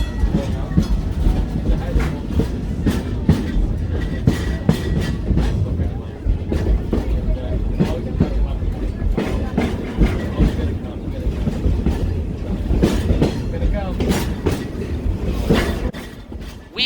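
Southern Pacific 1423 excursion train rolling through Niles Canyon near the railway yard and wigwag crossing signals, with a steady loud rumble and repeated clickety-clack of wheels over rail joints throughout.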